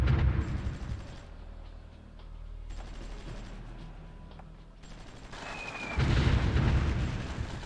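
Artillery in the strategy game Supreme Ruler Ultimate thumps and rumbles in a Soviet frontal assault, with deep booms swelling and fading over a low, continuous battle roar that grows heavier toward the end.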